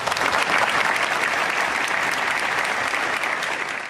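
Long applause greeting President Sergio Mattarella as he enters Teatro Massimo, a dense, sustained roar of many hands clapping throughout the large theatre, easing slightly near the end.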